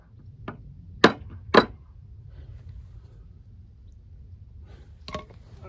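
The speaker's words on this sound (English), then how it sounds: "This side is slightly high, so I can actually just tap it down." A garage channel drain being tapped down to level it, with a few sharp, hard knocks spaced apart in a quiet room, the loudest two close together.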